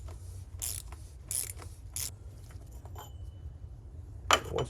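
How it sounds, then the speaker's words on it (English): A ratchet on a 3-inch extension clicks in a few quick, quiet bursts while loosening the oil drain plug on a Mercedes W211 E550, ending with a sharp metallic clink over a low background hum. "all you need is a ratchet and a 3-inch extension"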